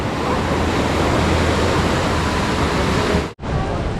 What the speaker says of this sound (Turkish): Çünkü çok dalgalı burası.